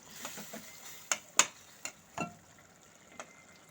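A spatula stirs fried prawns into banana stem cooking in a pan, giving a handful of faint, sharp clicks and scrapes spaced irregularly over a quiet background.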